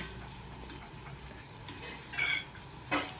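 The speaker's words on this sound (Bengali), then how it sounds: "ব্রাউন হওয়া পর্যন্ত আমাদেরকে এখন ফ্রাই করতে হবে" Papdi frying in hot oil sizzles at a moderate, steady level close by, with a few spoon clinks and scrapes against the pan breaking through.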